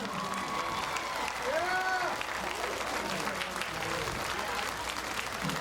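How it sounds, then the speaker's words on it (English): A crowd applauds the 2005-2006 Ardmore High School cheerleaders at a high school football game, steady clapping from a distance with a few whoops and background voices. "Give them a big round of applause."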